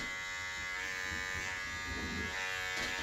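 A JRL 1040 electric hair trimmer runs with a steady, high, even buzz, faint and close, sounding a little dry as if it wants a drop of oil, with no voice over it.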